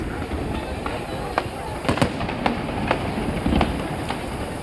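Chinese New Year fireworks burst over Binondo, a string of sharp bangs and crackles going off every half second or so against a dense outdoor crowd rumble, with voices nearby.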